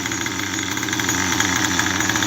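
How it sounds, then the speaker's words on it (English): An engine idles on its own at a steady, slightly low speed after an idle-screw adjustment, a continuous close mechanical drone with a faint rhythmic pulse and no talking. "So we finally got it idling on its own."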